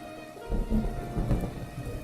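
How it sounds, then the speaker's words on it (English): Rain and a rolling thunderclap in a visual novel scene, a low rumble swelling after a quiet start and sustained under steady rainfall, with no voices. "The darkening skies were interrupted by a clap of thunder in the distance"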